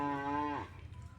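A cow lets out a single long, steady moo outdoors in hot sunshine, fairly close, trailing off into faint background noise.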